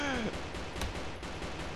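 Automatic machine gun in the multiplayer brawler game Havocado, a quiet rapid stream of shots beneath game effects and excited voices talking.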